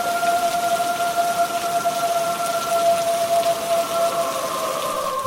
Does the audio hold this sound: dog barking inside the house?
no